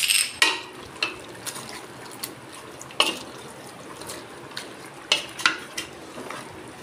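Mutton is stir-fried in a pot, with repeated scrapes and clinks of a metal spoon against the pot over a faint sizzle. The strokes come in irregular bursts, close and fairly crisp, with no voices.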